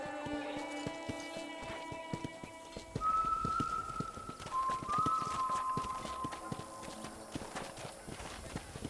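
Steady clip-clop of trotting horse hooves in Red Dead Redemption, rhythmic and close, with a few short whistle-like tones and soft musical notes over it.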